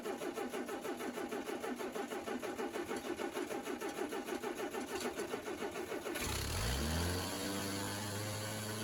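Old Allis Chalmers tractor engine cranking with a rapid rhythmic chug for six seconds, then catching and running with a rough steady idle, close and loud.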